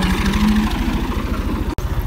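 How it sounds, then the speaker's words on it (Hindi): A tractor engine runs steadily nearby, a loud, even diesel chug with a brief dropout near the end and no talking over it. "तो हुण दूजा ट्रैक्टर आ चुके।"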